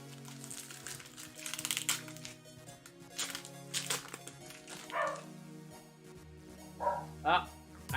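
A dog barks outside in the middle of the night, several muffled, distant barks and yips coming through under ongoing talk and some crinkling.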